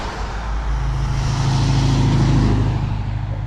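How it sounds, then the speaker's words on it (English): Steady roar of cars and trucks passing on a roadside in spring, loud and continuous with no gaps, no voices over it. "I'm trying to stay on the side of the road because we got a lot of cars coming and stuff"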